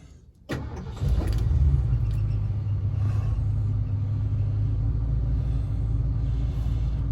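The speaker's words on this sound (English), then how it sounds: "we're going to take a nice, leisurely test drive" A car engine cranks and catches, then settles into a steady, loud low rumble as the car sets off on a leisurely test drive, with no talking.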